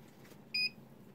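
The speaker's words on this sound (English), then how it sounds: "Oh, that's what the beep signified." A soldering iron with a fine tip sounds a single short electronic beep once it has heated up, brief and clear over a quiet room background.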